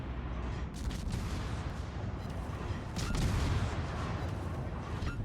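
Ship gunfire from World of Warships, a dense rumbling barrage of booming shots rolling over a continuous low roar, heavy and steady with a louder swell partway through.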